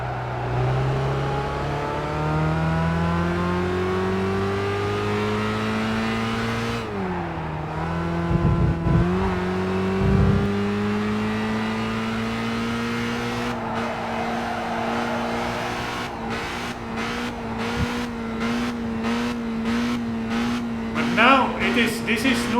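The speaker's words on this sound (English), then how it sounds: "So 1 gear below, it is hitting the rev limiter quickly." In the Gran Turismo 5 video game, a race car engine drones loudly at high revs and holds near the rev limiter, its tone climbing and dropping between gears, with stuttering cut-outs and a voice talking over it.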